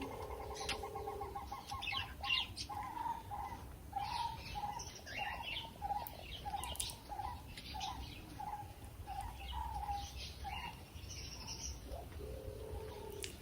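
Birds call in a home garden in Sri Lanka, a regular series of repeated chirping notes with other twittering around them, moderately faint over a steady outdoor background hiss, with no talking.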